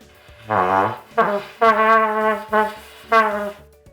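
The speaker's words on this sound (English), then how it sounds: "flabby sound like this." Five trumpet notes in a row played with overly loose lips, buzzy with a slightly wobbly, flabby tone, short separated blasts played alone up close.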